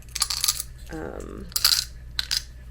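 Miniature Dungeons and Dragons dice clatter onto a hard surface in a quick rattling tumble, framed by sharp clicking impacts before and after, close and fairly loud over a low steady hum.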